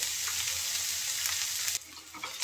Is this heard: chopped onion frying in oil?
yes